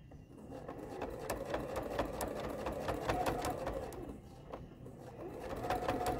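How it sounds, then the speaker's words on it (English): A sewing machine runs rows of straight stitching, a steady close whir punctuated by rapid rhythmic needle clicks, with no voices over it. "You can also do rows and rows of straight stitching."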